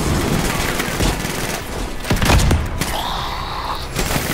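Rapid, dense sniper rifle gunfire and impacts fill the Anthem video game scene, with overlapping shots and booms throughout. Brief game tones are heard near the end.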